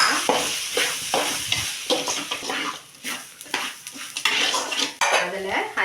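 Semolina sautés in a pan while a metal spoon stirs and scrapes it, giving loud, busy clatter and rhythmic scraping over a light sizzle close by.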